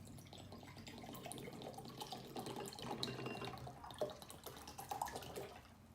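Vinegar pours and splashes into a bowl, a soft uneven trickling with a few small drips, close by and fairly quiet.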